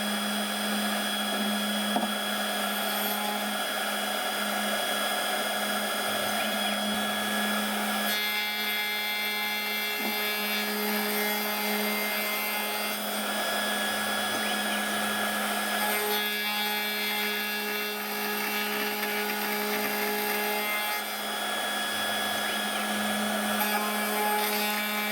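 A CNC 1419 milling machine's cutter grinds through aluminium with a steady high whine and whirring motor, running continuously with small shifts in pitch as the cut changes.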